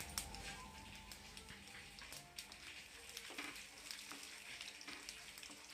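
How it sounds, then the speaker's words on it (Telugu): Mustard seeds, cumin, coriander and fenugreek frying lightly in a pan for velakkaya pickle, giving a steady close sizzle with scattered crackles and pops throughout and no voices. "ఆవాలు, జీలకర్ర, మెంతులు ఇవన్నీ యాడ్ చేసుకొని లైట్గా ఫ్రై చేసుకోవాలి"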